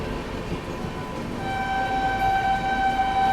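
The New Delhi–Amritsar Shatabdi Express rolls in on Indian rail track, a steady rumbling train noise with a sustained tonal whine building slightly toward the end, heard from nearby without talk.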